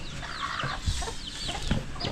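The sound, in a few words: chickens clucking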